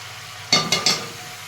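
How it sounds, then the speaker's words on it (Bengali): A spice paste of garlic, chili and ginger is fried and stirred in a pan, giving three quick sizzling scrapes of a spoon in close succession over a quiet kitchen. "ভালো করে কষিয়ে নেবো।"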